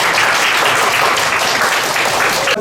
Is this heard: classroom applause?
yes